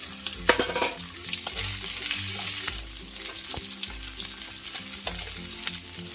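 Raw mango pieces sautéing in hot oil with fenugreek seeds and garlic, giving a busy, close sizzle with crackles and repeated stirring clicks against the pan, and no talking.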